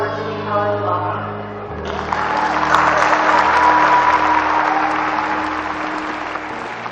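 An audience at a Virginia College graduation ceremony in Columbus, Georgia, breaks into loud, sustained applause, a dense wash of clapping that swells and holds for several seconds after a voice speaks over a sustained tone at the start.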